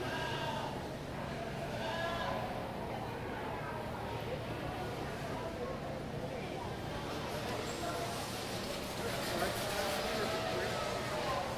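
Sheep bleating at a county fair livestock show arena, several wavering bleats over a constant crowded barn hubbub with announcer speech and general background noise throughout.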